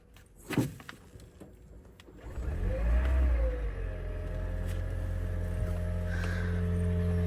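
Toyota Auris Hybrid starting after a jump start: a sharp click, then an engine catching and settling into a steady low idle hum, close and alone without talk.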